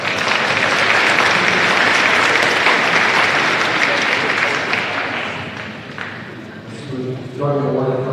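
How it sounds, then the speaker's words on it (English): A high school gym crowd gives the game officials a sustained round of applause that slowly thins out, and a voice comes in at the very end. "Please give our officials a round of applause."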